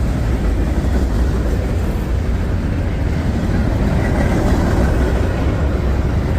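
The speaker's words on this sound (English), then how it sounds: "Good Norfolk Southern mixed freight line." A Norfolk Southern mixed freight train rolling past nearby, a loud continuous rumble and rail roar sustained with no letup.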